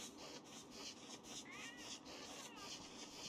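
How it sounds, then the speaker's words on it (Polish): A cat yowls in the video game Don't Starve Together, a wavering cry rising twice over a busy, scratchy game soundscape, faint and somewhat buried in the mix. "Jakiś kot się Jeszcze drze."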